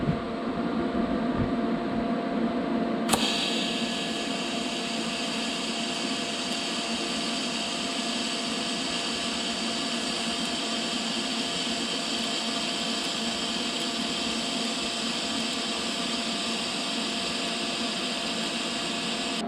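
Exhaust tubing on a Mazda Miata is welded during a budget muffler delete, giving a steady, continuous buzzing hiss that runs unbroken for the whole stretch with no talk.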